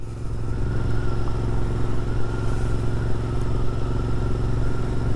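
A Royal Enfield Interceptor 650 motorcycle riding on back lanes, its engine a steady, close, continuous rumble with a low throbbing drone and no talk.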